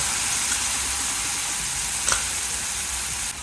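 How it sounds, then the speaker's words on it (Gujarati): Onions, masala and ginger sautéing in a pan, a loud, steady close sizzle with a brief stirring scrape partway through. "સોતળશું સાથે આદુ. સોતળી નાખશું બધી વસ્તુ."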